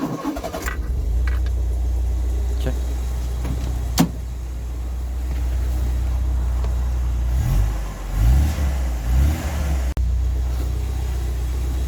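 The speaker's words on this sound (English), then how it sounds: "I'm going to start the car again, let it idle, okay?" An older car engine idles after a tune-up, a steady low rumble that holds through, with a few throttle blips swelling and fading near the end and a single short word spoken.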